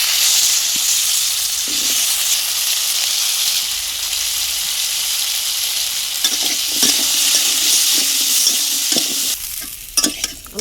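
New potatoes fry in oil left over from frying fish, with a loud, steady close sizzle and hiss throughout and a few stirring clinks toward the end, and no voices.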